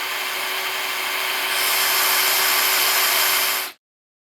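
A hydraulic through-frame RV slide-out room extends with a steady, loud mechanical whir and hum that grows slightly louder midway, then stops abruptly.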